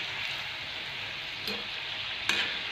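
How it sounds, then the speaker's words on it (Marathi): Sweet modak fry in hot oil over a medium gas flame, giving a steady, close, even sizzle throughout, broken by two brief clicks. "मिडियम गॅसवर तळले ना म्हणजे आपले मोदक आहेत ना असे एकसारखे मस्त खरपूस भाजले जातात"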